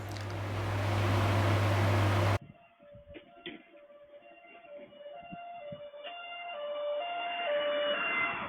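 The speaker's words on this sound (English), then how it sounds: "just as I'm putting the parcel inside my house, I can hear the siren" An emergency vehicle siren wails in a steady stepped up-and-down pattern outside a UK house, heard at moderate distance after a loud opening burst of broadband noise, with faint street sounds beneath.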